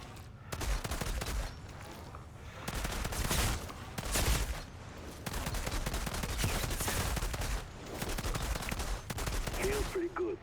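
Dual pistols fired as a sidearm in the Outriders game, loud repeated shot bursts in several clustered volleys over dense game music and ambience.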